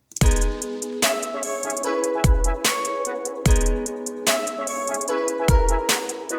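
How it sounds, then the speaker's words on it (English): Deep kick drum thumps land in a simple repeating pattern under a bright sustained synth chord layer. "I'm gonna go under general and hit basic kick pattern 1."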